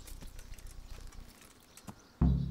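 Horse hooves clip-clopping in the medieval game Kingdom Come: Deliverance, a quick run of soft, close hoof taps ending in a sudden louder low thud.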